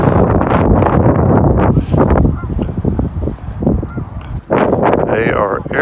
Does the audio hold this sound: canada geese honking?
yes